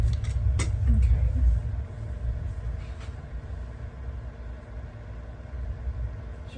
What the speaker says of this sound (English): Sure y'all can hear that thunder.